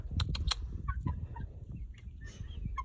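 A backyard chicken clucks while being offered a noodle, giving short, soft clucks and murmurs in scattered bursts, close to the microphone and with no one talking over them.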